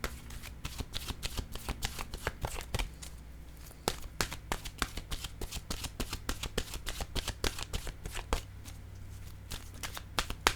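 An oracle card deck being shuffled by hand, a close, steady stream of rapid crisp card riffles and flicks, continuing without pause and with no talking.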